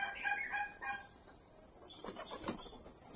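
A pet pigeon indoors flaps its wings in a short, soft flurry of fluttering beats, fairly faint against a quiet background.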